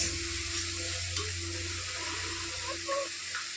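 Onion and ginger paste frying with a little spice in a pan, giving a steady close sizzle with faint scraping and stirring, and no talk over it.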